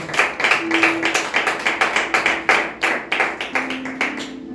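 A church congregation claps steadily and loudly in a dense, sustained burst of applause, with a faint sustained tone sounding underneath.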